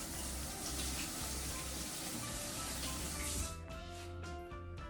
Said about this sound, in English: Wash your hands off.